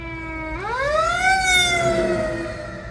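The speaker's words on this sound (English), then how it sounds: "there's a fire truck, so we pull over." A fire truck siren wails, its pitch sweeping upward and holding loud and close over low road rumble.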